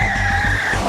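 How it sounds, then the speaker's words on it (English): Car tires squealing and skidding as the vehicle drifts at the limit on a test track during handling testing, a loud sustained screech with pulsing engine rumble beneath, close and brief. "We're looking at how well the car sort of drifts."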